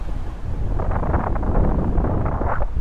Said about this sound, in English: The wind's still nice and steady as well.